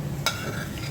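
Bitter gourd frying in a pan is stirred with a single sharp scrape, set against a continuous, close frying sizzle with no talking.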